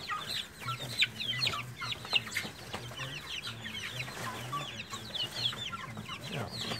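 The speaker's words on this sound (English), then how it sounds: "Couple regular chickens." Chickens cluck steadily in a farmyard, a mix of low repeated clucks and brighter calls overlapping for several seconds at moderate distance, with faint background noise.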